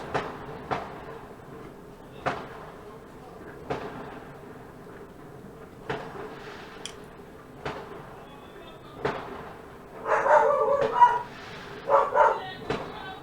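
A pet dog barks indoors in short, sharp bursts repeating about every second and a half, with a louder, busier stretch of noise toward the end.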